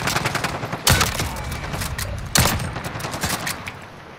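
Gunshots ring out in Call of Duty: Modern Warfare, with two sharp, loud reports standing out over a steady patter of quieter rapid fire and faint background clatter.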